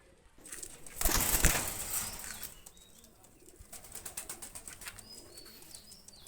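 A pair of Pakistani high-flyer pigeons is let go with a loud burst of flapping wings, followed by quieter, rapid wingbeats that keep pattering as the birds move off.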